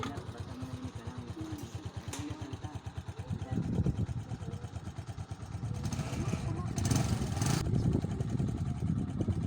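A motorcycle engine idles with a steady, rapid throb on a provincial road, then revs louder and pulls away. The engine stays loud and close throughout.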